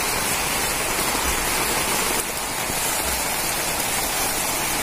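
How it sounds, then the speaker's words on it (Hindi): Heavy rain pours steadily on a riverside spot along the Markanda river, a dense, loud, unbroken hiss of falling water with no pauses and no voices. "अब बारिश देखिए कितनी तेज लगी है"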